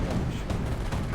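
Howitzer artillery barrage in the Company of Heroes game, a dense continuous rumble of booms and distant blasts filling the whole moment, with battlefield noise layered throughout and no pauses.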